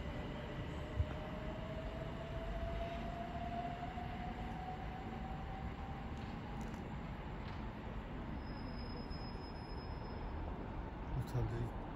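A train pulls into Bromley South station on the South Eastern Main Line, a steady rumbling roar with a faint rising wheel whine throughout, moderately near and continuous.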